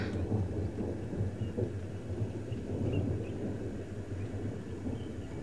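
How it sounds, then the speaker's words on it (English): Thunder rumbles low and continuously during rain in the Masai Mara, a deep rolling drone that stays fairly even and distant throughout, with soft rain noise above it. "I'm just letting you hear the thunder."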